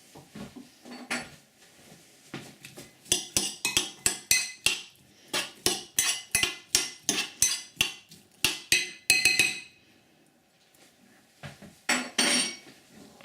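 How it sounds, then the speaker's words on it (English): A utensil knocks and scrapes rapidly against a bowl while stirring onions for a microwave Chinese meal, a close, sharp run of clinking strikes in a steady rhythm, pausing briefly before a final burst. "Just going to mix that around a bit."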